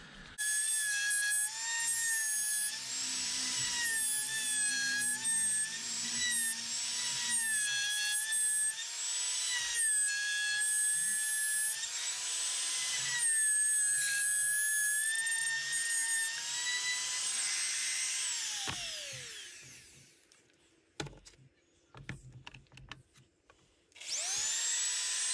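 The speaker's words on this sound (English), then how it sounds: "before I torch, is I want to sand this back." A power sander works over a carved wooden sign in a steady, loud, whining run of about nineteen seconds, then winds down, followed by a few brief scrapes and knocks and a last short burst of sanding.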